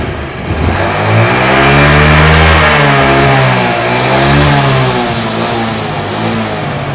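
A carbureted Honda Beat scooter engine is revved up once, held high, then rises in a second rev before it eases back. The sound is loud and close, with strong rising and falling harmonics and no speech.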